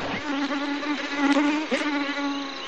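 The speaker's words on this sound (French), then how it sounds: "Contre les moustiques," High, whining buzz of mosquitoes in a New Guinea jungle, close and continuous with wavering pitch as the insects drift near, no voices.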